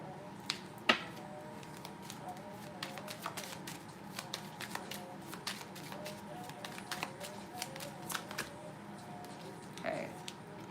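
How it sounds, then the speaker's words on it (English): Oracle cards being shuffled by hand, a steady run of soft papery riffles and flicks with a couple of sharper snaps near the start, close and fairly quiet with no talk over it. "I'm gonna use these little cards here."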